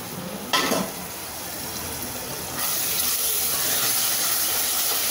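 Tomatoes sautéing in a pan for tomato biryani, giving a steady close hiss and sizzle, with a brief stirring burst early and the frying noise swelling louder midway.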